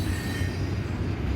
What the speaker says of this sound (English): It's a unit train.